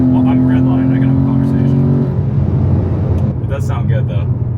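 A supercharged Acura TL-S engine held near redline in sixth gear at about 80 km/h in sport mode, heard from inside the cabin: a loud, steady droning hum under continuous road noise, with the tone shifting partway through.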